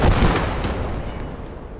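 Heavy artillery fire from the World War II video game Kampfgruppe, a single loud, deep boom that rolls away into a long rumbling decay.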